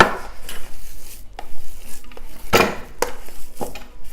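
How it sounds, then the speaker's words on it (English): Hands working a raw ground beef meatball mixture in a bowl, giving wet squishing and slapping sounds with occasional clinks against the dish, in irregular close bursts. "You got to really get your hands in there, mix away until everything is very evenly incorporated."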